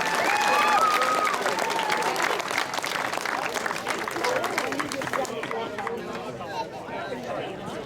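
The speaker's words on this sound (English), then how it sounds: "once again, folks, give a nice round of applause, Boss Hog Dave St. Clair" Applause from the crowd at a speedway hall of fame ceremony runs continuously for several seconds, fairly loud and close, with voices and a whistle mixed in before it thins to scattered clapping and chatter.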